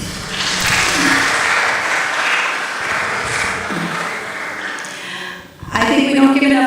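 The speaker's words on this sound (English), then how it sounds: "So give yourselves a round of applause." A live audience at a talk on supported employment and community inclusion for people with disabilities bursts into a sustained round of applause that fills the room, dipping briefly before a louder surge near the end, with a few voices faintly underneath.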